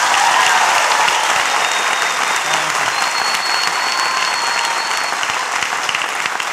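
Steady, dense applause from an audience fills the whole stretch, sustained and fairly loud without breaks.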